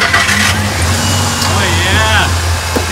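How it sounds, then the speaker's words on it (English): The engine of a Ford F150 XLT pickup truck, in rough and smoking condition, hums with a loud steady idle and a brief rising rev, while people talk over it. "give her a rev"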